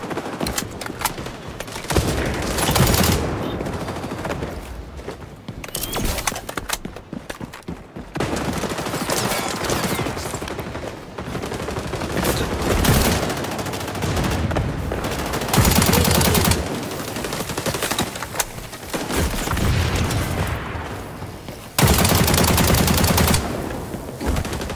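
Near-continuous automatic gunfire in the shooter XDefiant, long loud bursts and sustained fire broken by brief pauses, with dense game-combat noise throughout.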